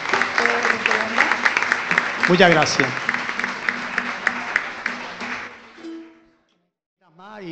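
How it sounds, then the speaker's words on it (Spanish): Strong, continuous applause breaks out at a traditional carnival group event in Castillo del Romeral, with voices calling out over the clapping before it stops and a speaker talks briefly. "Así que ahora sí quiero un fuerte aplauso para ellos también."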